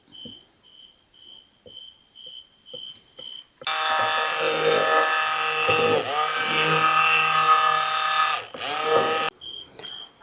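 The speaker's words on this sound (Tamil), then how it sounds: "கண்டிப்பாக பிளெண்டரை போட்டு தான் நீங்கள் மிக்ஸ் பண்ணணும்" A hand blender mixes neem, tulsi and mint soap batter. After a quiet start it switches to a loud, steady electric motor whine lasting several seconds, then cuts off.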